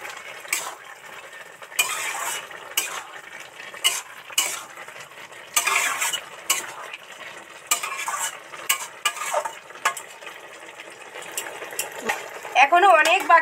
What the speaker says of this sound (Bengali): দেখি কি দারুণ ফুটছে আর দারুণ সেন্ট বেরিয়েছে বন্ধুরা। নেড়ে চেড়ে মিশিয়ে দেবো।